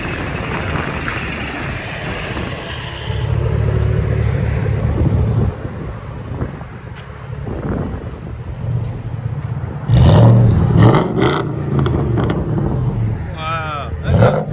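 A 2014 Ford F-150 with a 5.0L Coyote V8 and Dynomax Race Bullet exhaust gives a deep, loud exhaust rumble that swells with revving. Wind noise runs through it and voices speak over it.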